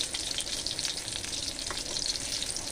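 Jali leaf fritters (bora) fry in a pan of hot oil, giving a steady, close, even sizzle with a bright crackle that holds throughout, with no talking.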